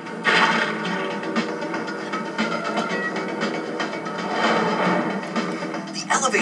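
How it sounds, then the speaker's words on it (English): Elevator mechanism grinding to a halt in a Spider-Man video game: a dense, steady mechanical rumble with ratcheting, gear-like clatter throughout, loud and close, with game speech mixed underneath. "The elevator stopped."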